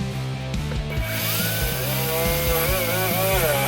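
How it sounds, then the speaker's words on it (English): A drill bores a hole through the steel firewall of a 1957 Chevy pickup, a steady close motor whine with a rising, wavering pitch as the bit bites through, running without a break. "I hate drilling holes in the firewall."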